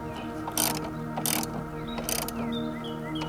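A 14 mm wrench working on the rear axle of a Honda Elite 80 scooter, heard as close metallic ratcheting clicks in a few quick bursts over a steady background hum.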